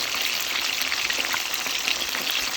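Fish fries in hot oil in a pan for Jamaican escovitch fish, a steady close crackling sizzle with no pauses.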